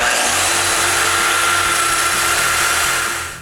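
A domino joiner cuts a mortise in a wooden door stile with a loud, steady high-pitched whine under a pulsing motor drone, close by, then spins down at the end.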